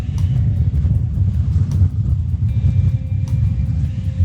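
Strong headwind buffets the microphone while cycling over the Eider barrage on a 400 km Audax brevet, a loud continuous low roaring rumble with no voices.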